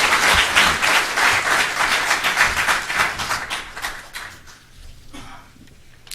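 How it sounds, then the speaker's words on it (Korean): Audience applause at a lecture event, a dense burst of many hands clapping that fills the first four seconds and then thins out and fades toward the end. "큰 박수 한번 보내주십시오."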